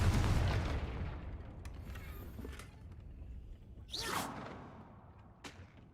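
A Confringo spell fires in Hogwarts Legacy: a loud blast at the start, with a swooshing whoosh and sharp bursts following over the next few seconds.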